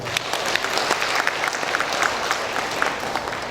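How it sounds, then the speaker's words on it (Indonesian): A crowd at a Ramadan charity distribution for Quran school teachers and the poor bursts into steady applause, many hands clapping in a continuous, fairly loud roar, with faint voices underneath. "Tepuk tangan untuk kita semua."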